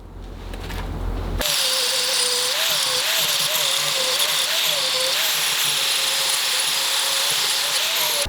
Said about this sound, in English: I can finish the rest of it with an angle grinder